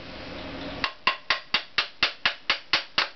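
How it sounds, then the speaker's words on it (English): A steady series of sharp metallic hammer blows driving a part into a Honda CX500 engine, about nine evenly spaced strikes, each ringing briefly, close by after a short stretch of noise. "every blow with a hammer you have to go to see that it goes inside the engine"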